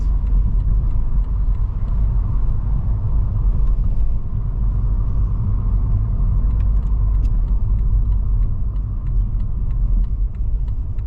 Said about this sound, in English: Find somewhere convenient to park on the left.